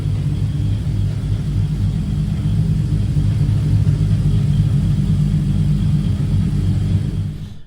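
A 1251 bhp Toyota Supra MKIV on a test drive gives a loud, steady engine rumble heard from inside or close by, holding an even drone throughout before easing off at the very end.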